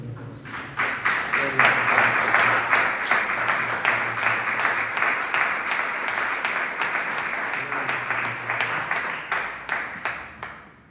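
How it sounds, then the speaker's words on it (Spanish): A church congregation gives a strong round of applause, clapping swelling quickly and then holding in rhythmic, dense bursts before fading out at the end; a voice speaks faintly beneath it. "Dale un fuerte aplauso"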